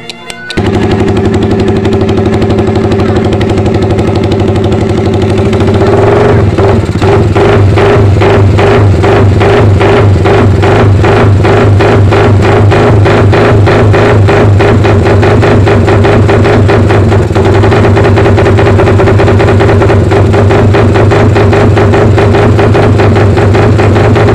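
A motorcycle idles with a deep exhaust rumble, then breaks into rapid, machine-gun-like backfire pops that continue loud and close. The popping comes in dense bursts over the running engine for most of the clip.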